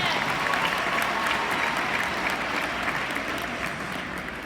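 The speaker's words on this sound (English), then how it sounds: "So give yourselves a big round of applause." Loud, sustained applause from a large crowd, steady clapping filling the whole stretch and tapering only slightly at the end.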